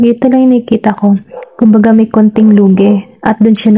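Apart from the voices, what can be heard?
No everyday noises stand out.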